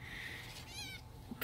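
A kitten or young cat meows once, a short rising wavering cry in the middle of the stretch, close to the microphone, with a soft shuffling background and no talk.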